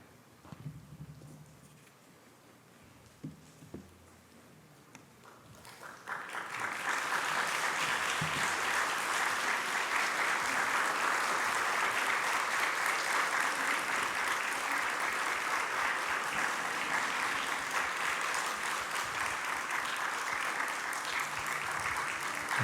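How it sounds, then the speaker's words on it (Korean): A church congregation applauds at a pastoral sending-off service, the clapping swelling in around the six-second mark into loud, dense, sustained applause that continues steadily to the end. "전달하는 내내 뜨거운 격려의 박수, 파송의 박수 함께 올려드리겠습니다."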